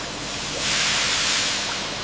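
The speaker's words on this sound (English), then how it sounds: "Utilizing high-intensity steam injection, the water is maintained at a rolling boil, ensuring the rapid and even cooking of the bamboo shoots." Loud steady hiss of high-intensity steam injected into boiling water at a bamboo shoot processing factory, a continuous broadband rush that swells after the first half second and holds without pause.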